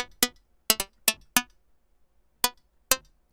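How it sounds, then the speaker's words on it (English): Synth pre-click made in the Plucked VST in FL Studio with decay down and color up: eight sharp, short percussive clicks in an irregular pattern, fairly quiet and dry with no voice. "the click that comes before the pluck, which we will work with in the VST called plucked"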